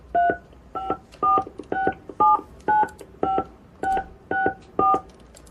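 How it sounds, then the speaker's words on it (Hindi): Phone keypad tones as a 16-digit credit card number is entered: a rapid run of about a dozen short, loud, clear dual-pitched beeps in uneven rhythm, close and alone without talking. "आप पेमेंट अपने मोबाइल से 16 अंक का क्रेडिट कार्ड नंबर डाल दीजिए"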